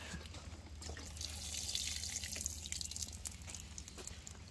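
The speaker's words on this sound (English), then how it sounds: "I'm pouring fertilizer around my stuff." Liquid fertilizer poured around blooming garden plants, a steady close trickle and splash of liquid running continuously with no talking.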